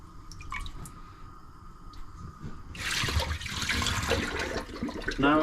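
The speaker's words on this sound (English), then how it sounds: "I'm gonna be getting rid of this water" Soaking water from mushrooms is poured away, starting with a few drips and then becoming a louder continuous splashing gush that runs until the end.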